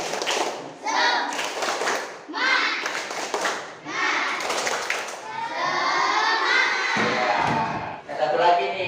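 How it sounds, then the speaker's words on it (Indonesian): A primary school class performing a rhythmic clapping chant in a lesson, children shouting the chant words in bursts while clapping together in patterned beats, loud and close with a teacher's voice mixed in. "Kita mulai ya dengan tepuk semangat."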